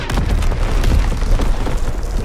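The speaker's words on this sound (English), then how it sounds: "Incoming enemy artillery!" Enemy artillery explodes in Call of Duty WWII on the London Docks map, a loud, rumbling boom with crackling bursts rolling close by for a couple of seconds.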